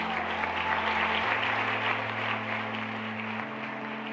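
Applause at the United Nations, a steady sustained wash of many hands clapping in a large hall, with a low tonal hum running beneath it throughout.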